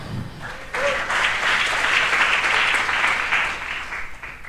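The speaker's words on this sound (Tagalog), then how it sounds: "Palakpak." A church congregation breaks into applause, a short lead-in of small sounds giving way to a full, steady burst of clapping that holds and slowly eases.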